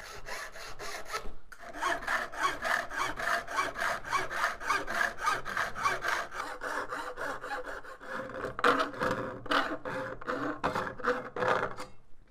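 A small wooden workpiece being cut with a hand saw, giving steady rhythmic back-and-forth rasping strokes, close and continuous, briefly pausing near the start, with no talking.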